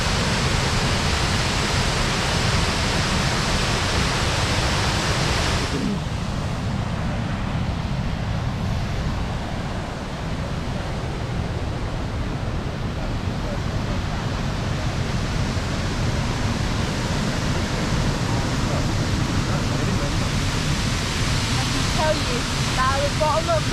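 A waterfall in Glencoe, Scotland, crashes into its plunge pool with a dense, unbroken roar, loud and close, while people talk beneath the rushing water.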